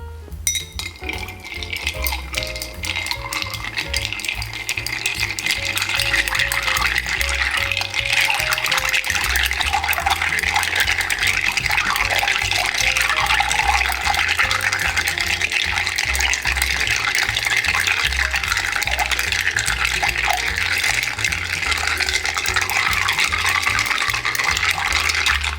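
A spoon stirs a Hanky Panky cocktail of vermouth rosso and Fernet-Branca in a mixing glass, giving continuous close liquid swirling and faint clinking that builds and holds steady.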